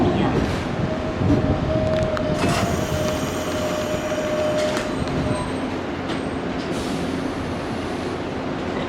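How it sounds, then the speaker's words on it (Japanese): A Nankai Main Line local train bound for Namba rolls into Sakai station in the evening rush, a steady rumble of wheels on rail with a brief squeal under a platform announcement. "The train now arriving is the local train bound for Namba."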